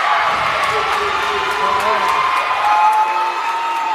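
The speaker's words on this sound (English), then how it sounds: "And the crowd goes nuts here at Crane High School." A loud crowd erupts in sustained cheering and whoops at a girls' high school basketball game, Hollister against Crane at Crane High School, late in the fourth quarter. The roar stays dense and steady for the full few seconds.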